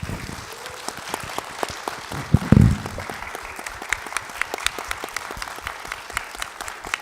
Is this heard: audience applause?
yes